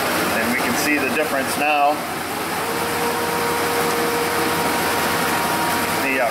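Ford F-150 pickup engine with a single-cylinder misfire starting and running, a steady close engine drone with a whining tone, while a person speaks briefly over it near the start.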